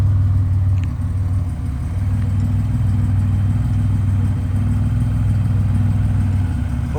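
A 1987 Buick Regal Grand National's turbocharged engine runs loud and close with a steady low throaty drone, holding fairly constant rather than rising in sharp revs.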